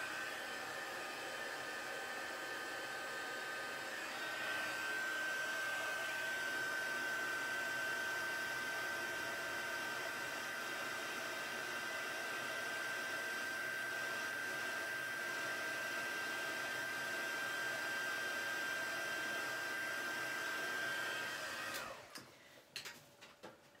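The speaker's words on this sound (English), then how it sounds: "We want your heat tool to heat up" An embossing heat tool runs with a steady, loud blowing hiss and a constant whine for about twenty seconds while heating embossing powder on a handmade card, then cuts off abruptly near the end.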